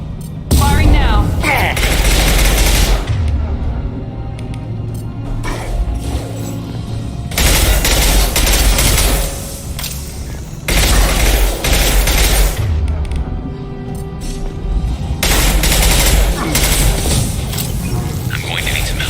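Heavy gunfire in a Mass Effect 2 firefight: loud bursts of shots and booms in several dense clusters, separated by short lulls, with voices speaking over the combat.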